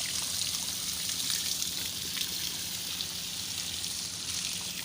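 Water gushes steadily from the pipe of a newly drilled 50-foot borewell, a continuous hissing splash with a trickling texture over a low machine rumble, with no pauses.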